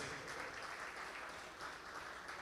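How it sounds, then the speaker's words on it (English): Applause at an evening celebration soirée honoring Team X3M Ideas, a Nigerian agency team marking a Cannes Lions award win; a steady, fairly faint wash of clapping from a room crowd continues evenly throughout. "please a round of applause for Team X3M Ideas"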